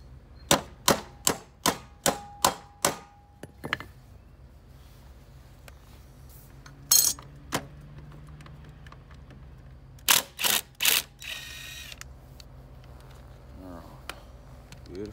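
A socket wrench ratchets on a Honda HR194 lawnmower: a close, quick run of about seven sharp clicks, then scattered single clicks and a few more short bursts in a quiet room.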